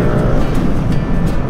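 Several motorcycles ride together as a group on a trip in rural Tarlac, a steady close engine and road roar with wind buffeting, continuous and loud throughout with no talk.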